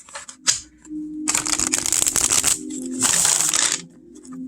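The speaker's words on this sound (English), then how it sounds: "This is a hit just because I can ruffle shuffle it." A deck of cardstock playing cards is riffle shuffled up close, giving two bursts of rapid, fluttering card snaps with soft handling noises between them and no talking.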